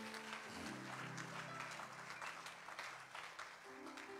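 A congregation at a church service applauds together, a sustained broadband wash of clapping close by that holds steady for several seconds.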